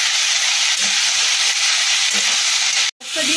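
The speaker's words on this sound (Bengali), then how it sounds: "পেঁয়াজ আর কাঁচা লঙ্কাটা একটু ভালো করে নেড়ে চেড়ে নেবো" Chopped onions and green chilies fry in a pan for a spiced potato bhaji, giving a loud, steady, dense sizzle throughout, with soft scraping from stirring beneath it and one brief dropout near the end.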